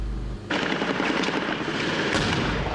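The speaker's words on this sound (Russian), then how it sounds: "И сразу началась стрельба." Heavy gunfire breaks out suddenly near a school in a town where explosions have just gone off, loud sustained bursts and crackling shots filling the air without a pause.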